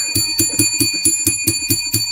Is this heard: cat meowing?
no